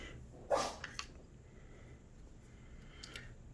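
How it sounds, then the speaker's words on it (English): A pet dog gives one sharp, close sneeze, followed by a couple of faint snuffles against a quiet indoor background. "That was my pooch Raleigh doing a little sneezing thing"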